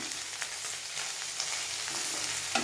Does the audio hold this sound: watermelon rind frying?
yes